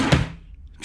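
A cabinet drawer in a Carnival Conquest cruise ship cabin shuts with a single close, solid thud near the start, then a quiet room tone with faint rustling.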